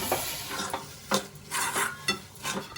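Dal, papaya and spices being mixed in a pan, soft irregular scrapes and stirring strokes with a faint sizzle underneath, close but quiet, no voices.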